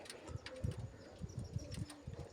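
Pigeons kept by a hobby breeder cooing softly in low repeated throaty pulses, faint and close, with a light background hiss and no talking.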